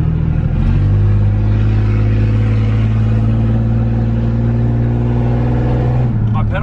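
A lifted V6 truck with rear disc brakes accelerates with the pedal floored, its engine giving a loud, steady, close drone that holds at one pitch without climbing before it drops off at the end.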